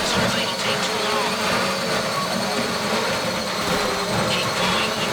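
In GTA Online, a drill bores into a safety deposit box during a Fleeca bank heist, giving off a loud, continuous grinding whir that holds steady throughout with no break.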